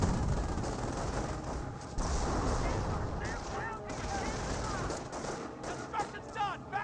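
Gunfire and explosions in Company of Heroes, a World War II strategy game: dense bursts of rifle and machine-gun fire with sharp cracks and booms, moderately loud and continuous, with a voice talking over parts of it.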